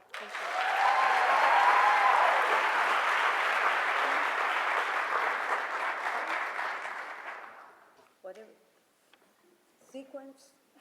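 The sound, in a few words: audience applause welcoming speakers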